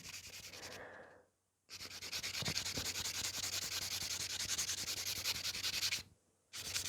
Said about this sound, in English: So I'm just making sure I'm buffing it really good